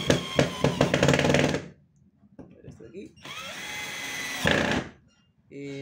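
An Ingco 12V impact driver drives a 4 mm screw into wood in two bursts of loud whirring and rapid hammering, close by, separated by a quiet pause, and a brief further whir follows at the end.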